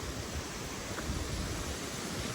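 A waterfall throwing spray, heard as a constant, full hiss and rumble of falling water nearby, even in level throughout, with no talking over it.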